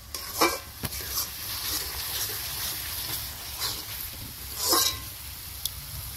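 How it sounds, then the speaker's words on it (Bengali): Spiced tomato gravy for chicken curry fries and sizzles in oil as a spoon scrapes and stirs it around the pan in several distinct strokes, close and moderately loud, without speech. "গ্রেভিটা এবার নেড়ে নেড়ে কষতে হবে।"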